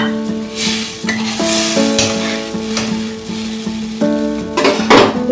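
Water poured into spice paste frying in oil for a Bengali mustard fish curry sets off loud, close sizzling that swells and fades, with spoon scrapes and clinks against the pan as it is stirred, no talking.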